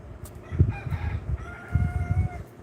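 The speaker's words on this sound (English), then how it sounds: "you hear the rooster." A rooster crows twice in clear bursts, fairly close and loud, with each call rising and then trailing off.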